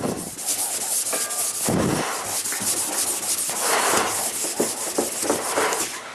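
A sanding block rubbed by hand across a surface to remove fine scratches, steady close rasping strokes in a continuous back-and-forth rhythm with brief pauses between passes.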